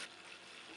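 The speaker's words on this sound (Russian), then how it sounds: "Вливаю воду." Warm water poured into a deep bowl of whisked eggs for pancake batter, a soft, steady splashing stream heard close and quiet.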